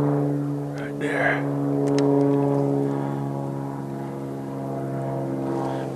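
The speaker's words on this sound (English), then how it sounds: "That damn plane right up in there." A propeller airplane drones overhead at night in the woods, a steady low hum that swells and fades slightly, with a few faint voices and small noises nearby.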